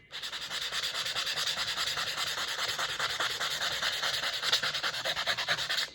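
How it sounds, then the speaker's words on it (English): Hand sanding copper vise soft jaws with 220 grit sandpaper, a steady rhythmic back-and-forth rasping that stays close and continuous throughout, with no talking. "Now I'm switching to some 220 grit sandpaper."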